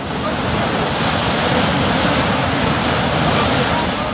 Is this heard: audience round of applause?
no